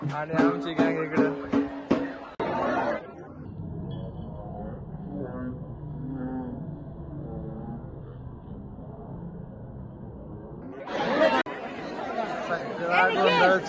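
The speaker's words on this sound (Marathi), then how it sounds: "सगळा गोंधळ चालू आहे सगळं." Noisy crowd chatter fills the air at Jejuri, a dense babble of many voices close by, louder and busier at the start and end with a more muffled stretch in between.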